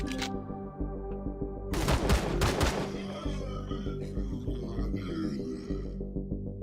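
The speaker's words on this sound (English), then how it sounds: "Damn, that shotgun hit." Shotgun blasts in the sci-fi survival game Empyrion Galactic Survival, a sharp burst near the start and then a rapid volley of loud, close blasts, followed by echoing mechanical clatter and hum.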